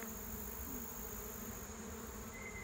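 A steady, dense buzzing drone of roughly 200 to 400 absconding honeybees swarming all around, continuous and fairly loud, with no voices.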